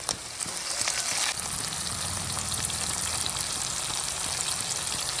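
Chopped onions and tomatoes sizzle briskly in hot oil in a pan for a fish masala curry, a dense continuous crackle with a sharper burst of spattering near the start, close and with no voices.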